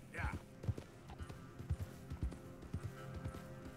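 Horse hooves in Red Dead Redemption 2, a steady run of soft clip-clop thuds repeating through the whole stretch, close and mid-loud, with someone talking over the hoofbeats.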